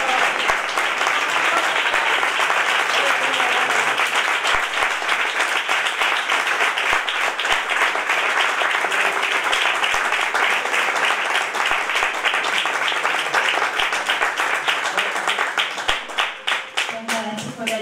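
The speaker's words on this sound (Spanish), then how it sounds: "Un aplauso para Paula." Sustained audience applause at a book presentation in a monastery in Granada, dense loud clapping continuing for many seconds before thinning out at the end.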